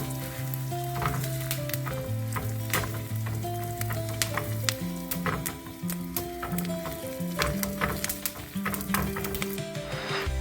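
A tempering of dried red chillies sizzles in a pan, giving a loud, steady crackling fry with scattered pops and faint stirring clinks, with no talk.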